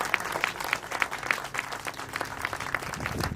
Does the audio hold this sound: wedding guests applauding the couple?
yes